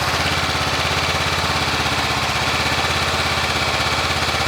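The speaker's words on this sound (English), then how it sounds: "First step in any oil change is to start the bike and let it run just for a little bit." A Honda CB500X motorcycle engine idles steadily before an oil change, a loud, even, rapid low thrum with no break and no voices.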